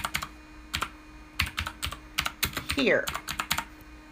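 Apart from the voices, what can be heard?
typing on a computer keyboard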